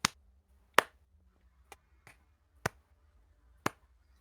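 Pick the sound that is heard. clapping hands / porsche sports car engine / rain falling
clapping hands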